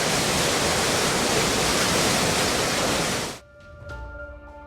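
Water from the Tungabhadra dam rushing out through a gate whose chain link snapped, a loud, dense, steady roar up close that suddenly cuts off near the end, leaving a quieter background with faint tones.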